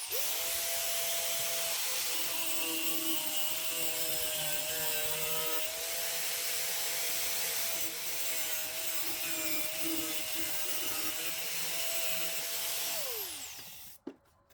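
The heater box of a Chevy S10 pickup is cut up for a diesel engine swap, a sustained whining, high-pitched tool cut running steadily for about thirteen seconds, then stopping abruptly with a few clunks.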